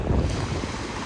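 Ocean waves wash onto a beach in Western Australia where cars park on the sand, a steady broadband roar of surf mixed with wind buffeting the microphone, with no talking.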